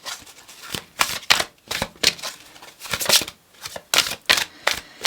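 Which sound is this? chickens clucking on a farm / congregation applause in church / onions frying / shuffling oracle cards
shuffling oracle cards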